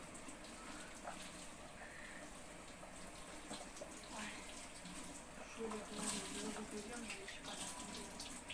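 A kitchen tap runs for hand washing, giving a steady, fairly faint rush of water throughout while food cooks nearby.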